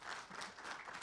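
An audience applauds speaker Thierry after a talk on individualised training and motor preferences, a brief, dense, even patter of many hands clapping at low level.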